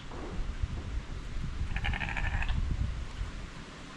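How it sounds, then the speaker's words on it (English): Sheep on a farm in South Africa bleat once clearly for about a second amid outdoor wind and rumble, moderately near. "See, those are our sheep."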